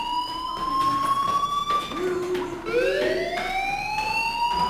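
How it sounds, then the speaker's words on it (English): Fire alarm in the video game Life is Strange: a loud, close electronic tone that wails, drops and sweeps back up in repeating cycles, heard alone. "Hey, do you hear that fire alarm?"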